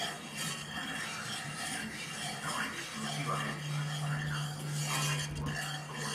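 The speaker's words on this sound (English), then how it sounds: "You just want to gently whisk it till all of the lumps and clumping stuffs are out" A whisk scrapes steadily around a pot of oil-and-flour roux for gumbo, giving a continuous rubbing, rasping swirl close by over a low steady hum.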